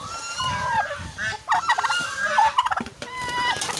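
A baby goose calls from close by in a run of high, loud, wavering gobbling peeps, with short bursts and brief gaps over faint background noise.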